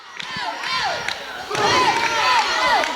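Loud arena crowd at a live championship wrestling show cheers and shouts continuously, with whoops and a few sharp slams, swelling louder midway through.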